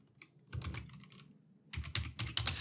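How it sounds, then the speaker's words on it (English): Quick bursts of keystrokes on a computer keyboard, close and crisp, in two short clusters of typing separated by a brief pause. "and we're going to type macro"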